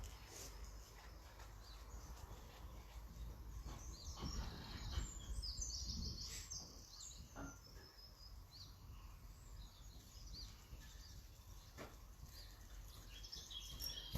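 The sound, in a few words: birds singing outdoors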